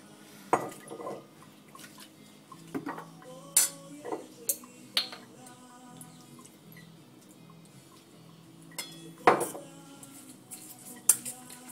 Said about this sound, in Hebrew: מערבבים טוב טוב את כל הבלילה